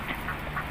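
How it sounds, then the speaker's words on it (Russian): Black ducks quacking outdoors on a frosty winter day in Mersin, a few distinct nasal quacks in quick succession over steady low background noise. "это оказывается утка. Черная утка."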